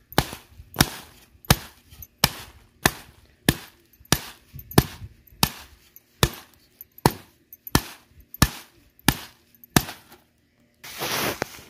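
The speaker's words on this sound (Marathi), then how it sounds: "इथं काठी घेतली, या काठी ना अशा झोडून काढायच्या अशा" Groundnut pods beaten with a wooden stick make a dozen or so sharp, evenly spaced thwacks in a steady rhythm, close and loud, followed by a brief burst of rustling at the end.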